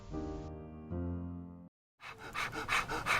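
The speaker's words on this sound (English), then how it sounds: "why are you panting like that?" A person who has just run a long way breathes in quick, loud, rhythmic pants close to the listener after a short silence. The pants come alone, with no talk.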